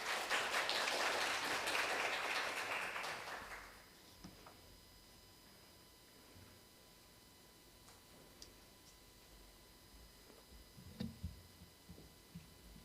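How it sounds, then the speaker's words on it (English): Applause from a conference audience at a business event rises at the start and fades out after a few seconds, leaving quiet room hum and a few faint scattered knocks. "Please welcome him with a big round of applause."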